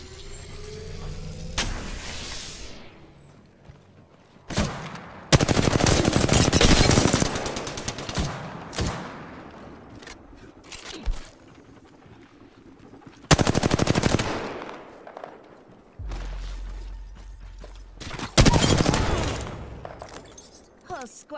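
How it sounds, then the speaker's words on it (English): Bursts of automatic gunfire crackle in a shooter video game, several loud volleys of rapid shots separated by quieter gaps, with a voice calling out in between. "I'm spotted, taking fire."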